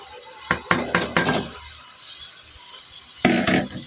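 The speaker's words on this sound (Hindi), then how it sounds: "अब इसमें हम डालेंगे भिंडी" Okra tipped into a pan of cooked masala, giving a quick cluster of clattering, scraping knocks, then a pause and another short burst of pan noise, close and with no talk.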